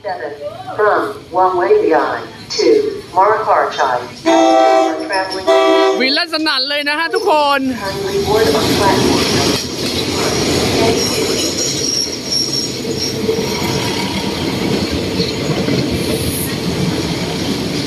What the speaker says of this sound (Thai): เพราะว่ารถไฟกำลังเข้าสถานีนะครับ